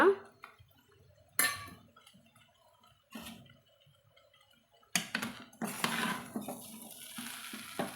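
Intermittent scraping and clinking of a utensil stirring vegetable noodle ingredients in a pan, in short bursts with quiet gaps, ending in a longer sizzling stir.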